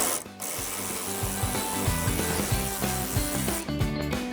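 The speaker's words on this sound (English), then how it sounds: "So to remove the headlight, first we need to remove this 13mm screw" A ratcheting tool works a 13mm screw on the headlight of a 2018-2023 Ford Mustang, giving a steady rapid clicking and grinding, close and continuous with no talking.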